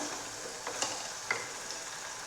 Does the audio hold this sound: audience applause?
no